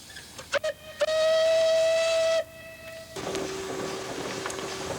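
An 80 horsepower Case steam engine gives a few short toots, then one long steady whistle blast of about a second and a half, followed by a continuous loud hiss of escaping steam.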